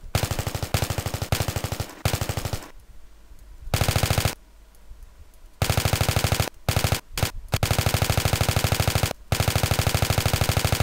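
An M249 machine gun in Battlefield 3 fires loud, rapid sustained bursts, the rattling shots broken by short pauses of varying length and then resuming, with no talk.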